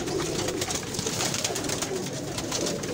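Several pigeons coo continuously nearby, soft overlapping throaty calls forming a steady murmur with no talking.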